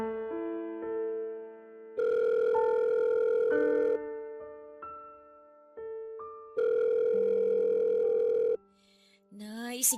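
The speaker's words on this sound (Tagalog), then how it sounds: "Sagutin niyo na po yung tawag." A telephone rings for an incoming call, two long electronic ring bursts separated by softer tonal music, in a quiet room.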